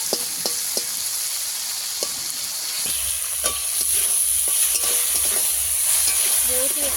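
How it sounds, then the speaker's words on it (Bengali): Raw tomatoes frying in a pan with onion and garlic for a village-style fish curry, a steady sizzle broken by repeated scraping and stirring clinks from a utensil, close by, with no talk. "কাঁচা টমেটো একটু সময় নিয়ে ভাজতে হবে"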